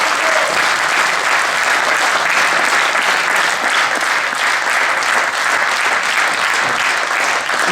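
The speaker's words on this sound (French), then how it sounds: "Je vous remercie d'applaudir Marc Ducardi" An audience applauds player Marc Ducardi, introduced at a competition in Coulaines; thick, continuous clapping from a large crowd holds at a loud, even level from start to finish.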